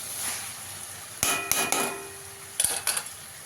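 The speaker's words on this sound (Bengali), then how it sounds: "এবার এই জল ঝরানো চালটা দিয়ে দেবো।" Drained rice is tipped into a pot of spiced chicken pulao and stirred, with a few metallic clanks of a spoon against the pot over a soft sizzling background.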